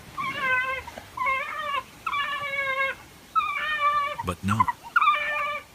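African wild dogs on the savannah give repeated high, wavering whimpering and whining calls in several drawn-out bursts, close and clear, with a brief voice speaking near the end.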